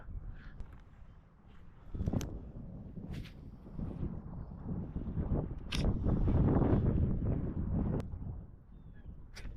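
Gusty morning wind buffets the microphone in low rumbling bursts outdoors while fishing on the Susquehanna River, with a few sharp clicks and knocks scattered through.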